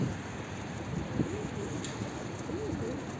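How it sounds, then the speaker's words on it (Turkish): A pigeon coos softly a few times in a quiet outdoor spot, its low rolling calls faint over steady background hiss. "Çok enteresan bir kuşa bak."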